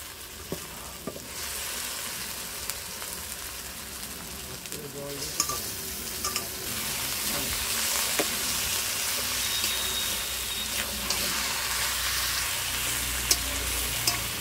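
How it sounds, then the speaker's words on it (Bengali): Country chicken pieces fry in a cooked-down spice paste, a steady moderate sizzle that builds slightly, with scattered clinks and stirring scrapes and no talking. "মশলাটা কষানো হয়ে গেছে, এবার মাংসটা দিয়ে দেবো।"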